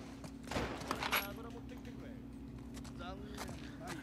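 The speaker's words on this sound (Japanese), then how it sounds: "おお、発砲練習。" Gunfire in The Last of Us Part II during in-game shooting practice: a couple of sharp shots early on, set against a steady low game hum with characters speaking over it.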